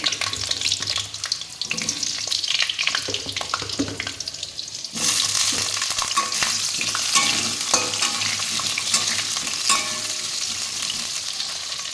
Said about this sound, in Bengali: আলুগুলো আগে তেলে দিয়ে দেবো